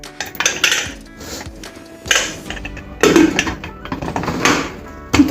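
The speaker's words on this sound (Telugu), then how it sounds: "మూత పెట్టి" A metal lid is set on a pressure cooker holding raw plantains covered in water, making several sharp metallic clanks and clinks of steel on steel, close and fairly loud, with no talking.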